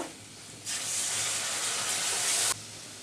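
Turmeric and chili powder sautéing in a pan, a loud bright hiss that starts abruptly, holds steady for about two seconds, then drops away, with no talking.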